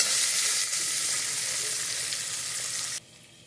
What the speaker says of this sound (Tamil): இதில் நான் கல்லெண்ணெய் ஊற்றி நான் இப்போ ஃப்ரை பண்ணிகிட்ருக்கேன்.